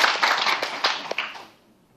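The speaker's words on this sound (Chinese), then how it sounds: "请掌声" A conference audience claps after a speaker is introduced at a Taichung air-pollution meeting: a brief round of scattered applause that fades out within about a second and a half.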